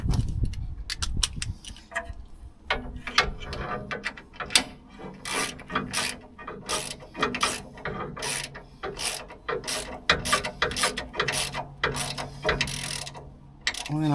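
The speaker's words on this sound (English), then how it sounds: "Now just going to tighten this spring in place at the bottom" A ratchet clicks in quick repeated strokes while tightening a Land Rover Defender 110 coil spring at its bottom mount, sharp close metallic pawl bursts separated by brief pauses.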